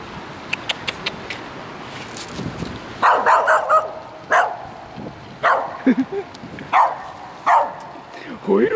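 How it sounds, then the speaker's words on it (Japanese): A dog barks repeatedly in short sharp bursts by a canal basin in Paddington, London, a voice speaking over and between the barks. "吠えるな吠えるな、"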